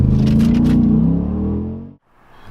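A 2010 Jeep Grand Cherokee SRT8 pulls away from a stop on full throttle without a brake launch, its loud engine note climbing steadily before cutting off abruptly near the end.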